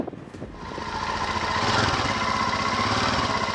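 Royal Enfield motorcycle engines start after a night in sub-zero cold and settle into a steady idle, a rising mechanical rumble that builds after a brief start and holds evenly close by.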